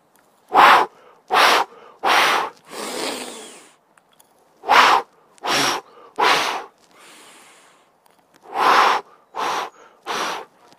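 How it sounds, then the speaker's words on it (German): Forceful bursts of breath pushed out during a breathing exercise for swayback posture: about nine sharp, close exhalations in three groups of three, with a softer, longer breath between the groups. "in diesem Wippen machst du so Stoßwellen ausatmen sozusagen."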